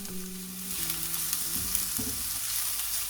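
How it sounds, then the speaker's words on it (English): Steady sizzling of shallots and garlic frying gently in a pan, a constant crackle close to the mic with a low hum underneath and no talking. "gently fry the shallots and garlic until they're lightly caramelised and softened"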